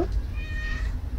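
A cat gives a single drawn-out meow, close and clear over a low background rumble.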